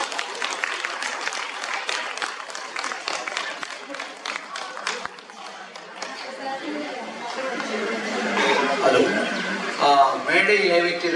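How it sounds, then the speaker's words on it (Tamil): An audience claps in dense, steady applause to welcome a speaker at a Tamil Pattimandram debate stage event held for Pongal; the clapping thins after about five seconds as crowd chatter and a voice take over. "அவர் கைத்தட்டி வரவேற்க ப்ளீஸ்"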